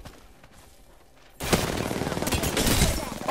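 Rapid video game gunfire erupts suddenly after a quiet moment: a loud, dense burst of shots that continues without a break to the end.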